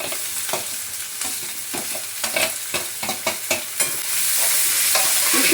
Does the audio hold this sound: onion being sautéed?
yes